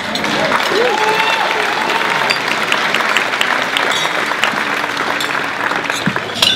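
A crowd at an elementary school educator of the year award ceremony claps steadily and loudly for a standing principal, a dense continuous applause with a few voices faintly audible beneath it.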